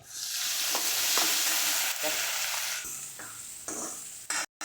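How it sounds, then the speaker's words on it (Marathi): Steady loud sizzling of a thick ground spice paste frying in a pan for chicken curry, with occasional scraping stirs and a brief pause near the end. "मिक्स केल्याच्यानंतर थोडंसं भाजून घे भाजू द्यायचं एक मिनटं"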